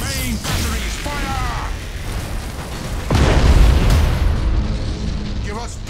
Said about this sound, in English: Main batteries fire.